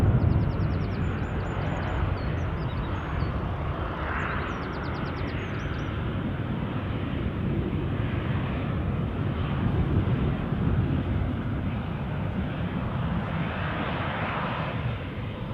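An Icelandair airliner at Newcastle airport makes a steady, distant engine roar that stays at an even level throughout, mixed with wind noise and a few faint chirps early on.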